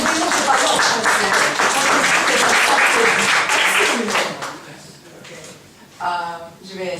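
Applause from the audience at a Paris press conference for Iron Man 3 rolls on loudly for several seconds, then fades, and a voice speaks over it near the end.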